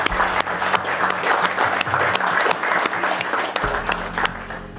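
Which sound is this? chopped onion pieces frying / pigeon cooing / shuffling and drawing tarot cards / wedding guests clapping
wedding guests clapping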